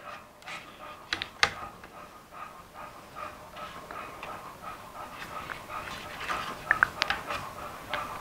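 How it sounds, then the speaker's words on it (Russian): A dog pants nearby in quick, uneven breaths, with scattered clicks and small bumps in a quiet room. "Это моя собака, ребята"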